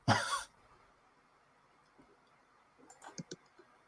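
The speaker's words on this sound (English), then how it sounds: "I hear you clicking." Soft mouse or key clicks come through an online voice call, a brief burst of noise at the start, then a quick run of faint clicks near the end against a quiet line.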